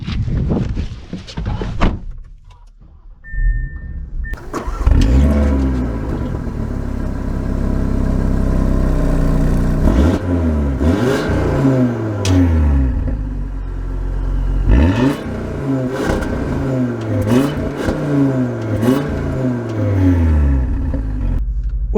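A 2023 Audi RS3 starts up and accelerates repeatedly, its engine revving in rising sweeps with gear changes between pulls, loud and close after a brief quiet start with a door sound.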